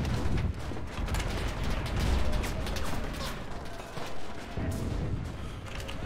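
Bombs going off amid gunfire in the World War II shooter Enlisted: a steady, busy din of distant shots and heavy blasts, with a louder thump partway through and no talking.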